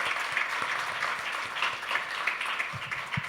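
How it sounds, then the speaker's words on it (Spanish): A church congregation claps steadily and continuously, a dense wash of applause throughout. "¿Cuánto le dan un aplauso al Señor?"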